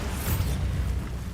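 A Bombarda spell blast in Hogwarts Legacy, one loud, low, rumbling explosion with a brief bright crack at the start, decaying over about a second.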